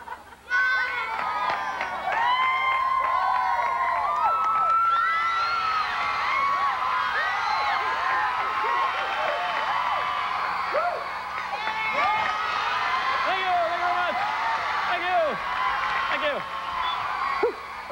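A children's studio audience on a television variety show claps and cheers loudly and continuously, with many shrill young voices shouting and whooping over steady applause that barely lets up.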